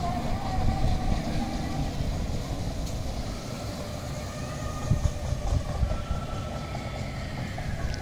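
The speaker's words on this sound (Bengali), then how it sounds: "খেলনার ট্রেন এগিয়ে যাচ্ছে।" A children's toy train ride rolls through Shahid Zia Children's Park in Rajshahi, with a continuous rumble and rattle of wagons, a few louder clanks, and faint voices in the background.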